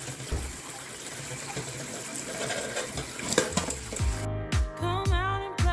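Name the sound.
water from a tap rinsing food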